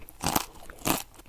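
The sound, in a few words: potato chip crunch sound effect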